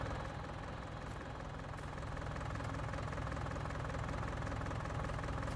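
A tractor engine in the video game Farming Simulator 19 runs at a steady idle, giving a continuous low rumble with a faint knocking texture throughout, close and unbroken.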